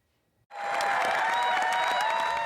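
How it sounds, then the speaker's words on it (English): Applause breaks out in the House of Commons for the Prime Minister, starting abruptly from near silence and continuing as a dense, steady wash of clapping. "This week's return of the House of Commons started with applause for the Prime Minister"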